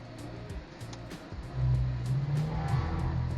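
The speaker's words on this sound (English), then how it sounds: "And I'm going to start this car up now." A Mercedes-AMG EQS electric car plays its synthetic start-up sound: a low hum swells up after about a second and a half and then holds, with light regular ticking throughout.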